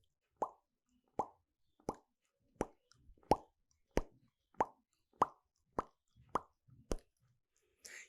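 A voice imitates dripping water with a steady series of about a dozen hollow plops, evenly spaced and close, with faint breathy sounds between them.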